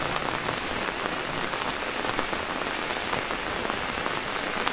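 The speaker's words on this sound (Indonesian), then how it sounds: "terdengar ya suara di payung letok letok letok letok" Heavy, persistent rain drums on an umbrella in Dieng, a dense, even patter close by that continues without pause and with no other sounds.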